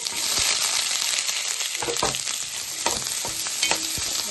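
Chopped onions fry in a pan with whole spices for butter chicken, a steady loud hiss of sizzling oil with a few soft thumps and scrapes of stirring and no voices.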